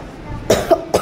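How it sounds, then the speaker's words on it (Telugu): A person coughs up close, with three short, sharp bursts, while a low background hum continues underneath. "ఈ దగ్గు నేను కావాల్సి తెప్పించుకోవట్లేదు వీడియో మధ్యలో, అదే వచ్చేస్తుంది"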